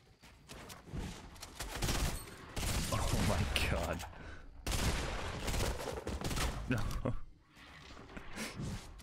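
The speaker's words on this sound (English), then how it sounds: "The shooting." Rapid bursts of gunfire crackle in a shooting video game, clustered volleys with short gaps, heard under and between players talking excitedly.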